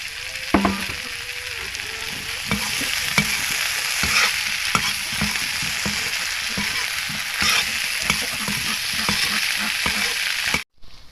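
Meat and potato chunks fry gently on low heat in a pan spiced with chicken masala and cumin, a steady close sizzle broken by scraping stirs and the occasional clink, cutting off abruptly at the end.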